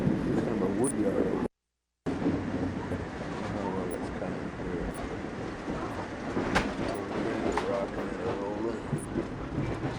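A long train rolls past a wood yard with a steady rumble and rattling wagons that carry on continuously, loud and close, with people talking over it.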